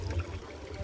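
Water runs steadily into a container at a house construction site in Jamaica, a brief close trickle with no talk.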